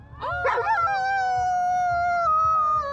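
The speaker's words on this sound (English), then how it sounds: "Every night, just as the sun sunk down, just about everybody would howl." At sunset people and a dog howl together, with long sustained wavering tones that hold steady after a brief yipping start, over a low background rumble.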